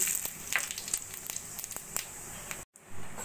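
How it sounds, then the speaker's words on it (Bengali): Cumin seeds and bay leaves sizzle in hot oil in a wok, a close, crackling hiss with small pops that cuts out for a moment near the end and then resumes. "এদিকে আমি কড়াইতে তেল গরম করে নিয়েছি, দিয়ে দেবো জিরে আর তেজপাতা ফোড়ন"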